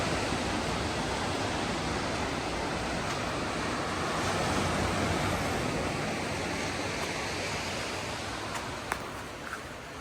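Ocean waves wash onto the beach at Inspiration Point, Newport Beach, a continuous broad roar of surf that swells gently and stays steady throughout, with no voices.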